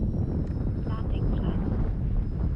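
Wind roars against the microphone during an aircraft's approach with flaps and gear lowered, a loud, steady low rumble throughout.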